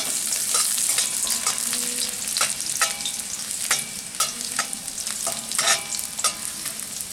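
Garlic frying in a pan while being stirred, a steady close sizzle with repeated scraping and clinking strokes of the spoon throughout.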